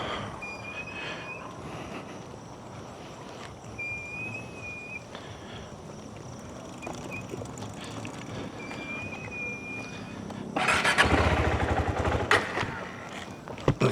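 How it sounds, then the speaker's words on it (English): A motorcycle engine idles steadily while warming up outdoors, a low continuous rumble with faint beeps, then revs up louder and rougher near the end. "this bike always needs to warm up."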